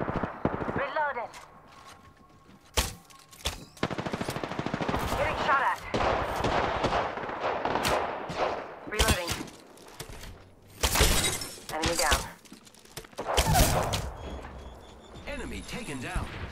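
Rapid bursts of gunfire and sharp impacts in the video game Apex Legends, loud and close, coming in clustered volleys separated by brief gaps, with someone talking over the action.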